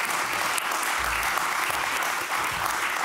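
Audience at a public meetup and film discussion gives sustained, even applause, a continuous wash of many hands clapping at moderate loudness throughout.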